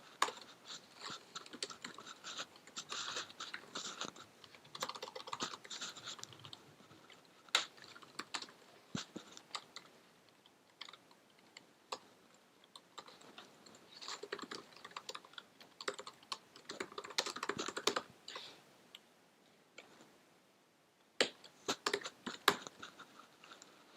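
Code typed on a computer keyboard in vim, bursts of quick, light key clicks with short pauses between runs, close and fairly quiet, with no talking.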